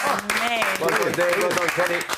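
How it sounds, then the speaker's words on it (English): A television studio audience applauds underneath voices that talk over the clapping for the whole couple of seconds. "Let's give them a applause."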